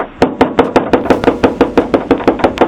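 A house door is banged on in a rapid, even series of about fourteen sharp, loud knocks. The thumps come close together and no voices are heard.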